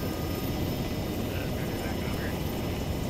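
A helicopter in the video game Task Force Corvus drones steadily and loudly throughout, its dense rotor and engine roar never letting up, with voices faintly underneath.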